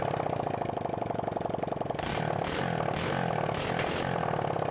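A Honda TMX 155 motorcycle engine idling after conversion to CDI ignition, a steady close putter that shifts to a rougher, uneven beat partway through with a few small throttle blips.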